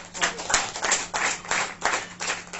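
A church congregation claps along at a worship service, a close, loud burst of many hands beating in a fairly steady pulse with swelling and easing waves of applause.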